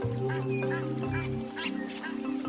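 Water birds calling at a shallow African river, with honking, duck-like calls rising over a steady low background hum, fairly faint and distant.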